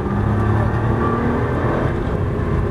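A Nissan GT-R on the circuit at Dreux gives a steady, loud engine roar under acceleration, held close and continuous throughout with a faint rumble beneath.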